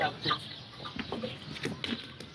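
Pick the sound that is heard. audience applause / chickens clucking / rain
chickens clucking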